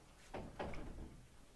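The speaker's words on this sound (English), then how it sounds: "Let's pull the door close." A door pulled shut indoors in a quiet room, giving two soft, close thuds a moment apart, then a dull low rumble fading into room tone.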